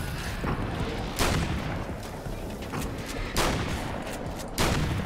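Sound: enemy shooting darkness bombs in video game Alan Wake's American Nightmare

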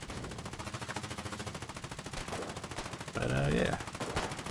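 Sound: rifle gunfire in video game Foxhole

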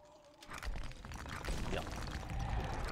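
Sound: liquid flow into waterfall slowing and stopping, video game DDO

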